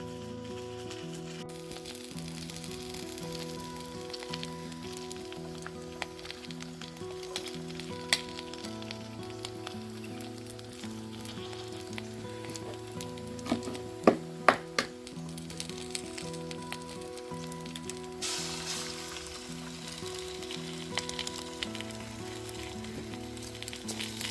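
Bacon fries on a SoomLoom kerosene hobo stove, giving a continuous crackling sizzle with scattered sharp pops and a louder burst of spitting partway through.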